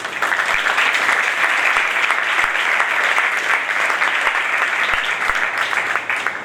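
Steady applause from a church audience at a first anniversary gathering of an Assemblies of God congregation in Karachi, a dense, even clatter of many hands lasting several seconds without a break.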